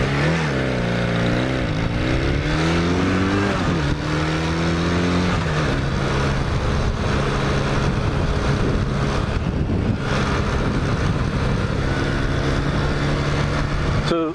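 A 1980 Kawasaki LTD440 motorcycle riding along, its engine note rising and shifting through the opening seconds before settling into a steady drone, heavily overlaid by loud wind buffeting the microphone throughout.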